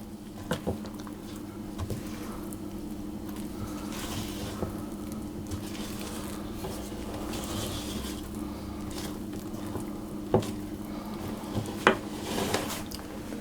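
Chocolate chips folded into raspberry cream cheese brownie batter with a spoon, soft wet squishing and light scraping against the bowl, with a few small taps and clicks, quiet and close, no talking.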